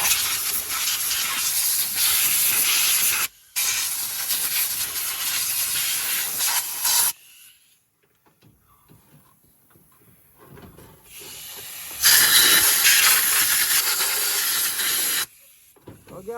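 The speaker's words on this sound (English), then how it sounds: "we're gonna blow off this carburetor because it's been sitting on a shelf for I don't know how long" Compressed air hisses loudly in several strong blasts against an old, grimy carburetor that had long been sitting on a shelf, with quiet gaps between bursts.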